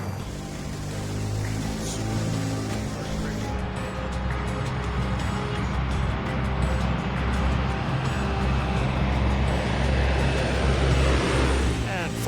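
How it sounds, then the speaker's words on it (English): A steady, loud roar of a CC-115 Buffalo turboprop engine during takeoff builds and holds, a broad whining drone with rising pitch near the end, no voices. "As the Cormorant gets out of the way, Stephen prepares the plane for takeoff."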